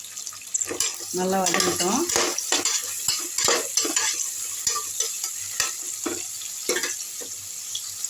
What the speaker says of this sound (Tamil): இந்த வெங்காயம் வந்து நல்லா வதங்கட்டும்.